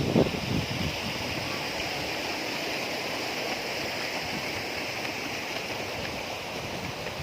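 Tirtosari waterfall in Magetan, a steady broadband rush of falling water that holds constant throughout, moderately loud, with a faint brief knock near the start and no talk.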